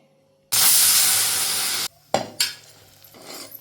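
A loud, sustained hiss of steam bursts from a pressure cooker whistle cooking split mung dal for payasam, lasting over a second, followed by a few clanks and softer hissing.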